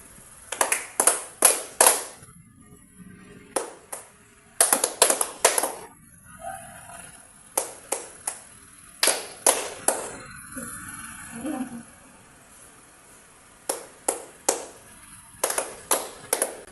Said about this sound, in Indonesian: apabila saya bertepuk 4 kali, maka peserta tepuk sebanyak 1 kali